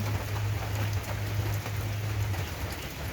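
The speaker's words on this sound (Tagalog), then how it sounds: "Maulan sa labas." Steady rain pours down, a dense hiss of drops falling close by with a low rumble underneath, continuous and fairly loud.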